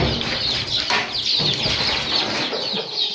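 A crowd of village chickens on a small poultry farm clucks and chatters continuously at close range, with occasional wing flutters and a steady high-pitched background din.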